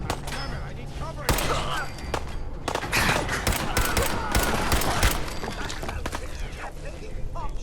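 Rapid gunfire from a Fallout 4 firefight crackles in dense, overlapping bursts over a loud ambient din, with sharp shots repeating throughout and a voice speaking beneath the action.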